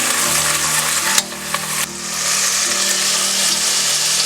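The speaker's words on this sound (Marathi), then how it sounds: "आलं लसणाची पेस्ट 1 ते 2 चमचे टाकते. हे चांगलं परतून घ्यायचंय." Ginger garlic paste frying in hot oil in a pan for Maharashtrian misal, a loud steady sizzle close by with brief stirring clatter in the middle, no talk.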